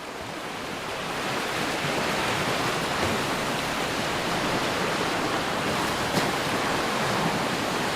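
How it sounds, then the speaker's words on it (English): Storm-driven waves and wind on a lake island shore roar in a steady, dense wash of broadband noise, loud and continuous with faint surges and no voices. "Cheers to the power of storms, wind, and waves."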